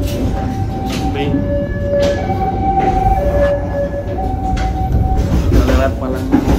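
The KA Jayakarta Premium passenger train rolls into Cikampek station, a steady loud rumble overlaid with drawn-out tonal squeals and whines from brakes or signals.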